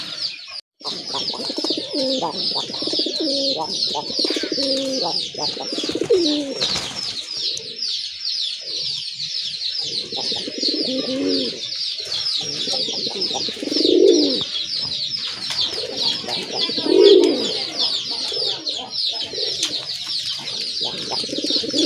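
Domestic Gola breed pigeons coo in repeated low rolling phrases, close and clear, with a steady high chirping of other birds in the background and a brief wing flutter.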